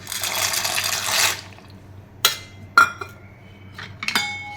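Pasta goes into a pot of boiling water with a little oil, giving a close rush and splash followed by a few sharp clinks of a utensil against the pot.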